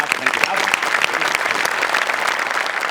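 A studio audience at a Marathi comedy show claps in dense, sustained applause, loud and even from start to finish, with a few voices mixed in.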